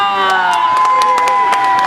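A theme-park ride audience at the Disney-MGM Studios Great Movie Ride cheers and claps loudly, a dense crowd roar with scattered claps and shouts that runs steadily throughout.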